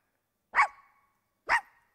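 A storyteller's voice imitates a happy dog barking, giving two short, sharp barks about a second apart, close and clear, with silence around them.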